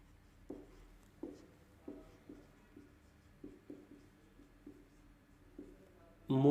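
Marker or chalk writing on a board in a classroom lesson, a series of short scratchy strokes at an irregular pace, fairly quiet and close, with a louder noise at the very end.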